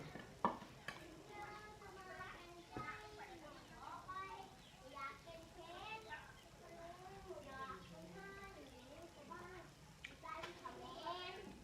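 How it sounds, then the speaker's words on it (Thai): Thai bamboo shoot curry stirred in a pot, soft scraping and sloshing running beneath nearly continuous talking, with a few sharper knocks of the spoon against the pot. "คนเข้าไปให้มันเข้ากันนะพี่น้อง"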